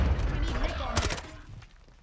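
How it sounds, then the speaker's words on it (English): A sharp gunshot cracks in a Warzone match, a single loud report around the midpoint with a short echoing tail, over game ambience and low voices. "He sniped me right as I'm getting up."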